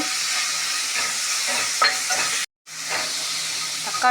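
Onion, grated ginger, grated garlic, green chilli and tomato sautéing on a tawa for pulao, a steady close sizzle with scraping stir strokes, broken by a brief silent gap midway.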